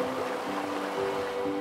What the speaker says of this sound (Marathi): ही खळखळ वाहणारी नदी आहे बाव नदी